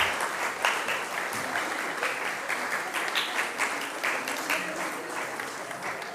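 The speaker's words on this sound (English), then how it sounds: "A big round of applause." Audience applauding an award recipient at a corporate Independence Day ceremony, steady dense clapping from a crowd, fairly close, holding at an even level throughout with no gaps.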